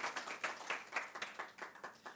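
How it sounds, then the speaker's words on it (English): A modest round of clapping from a small audience at a health exhibition and conference session, a thin, fairly quiet patter of hands in a steady rhythm without pause. "A big round of applause to doctor."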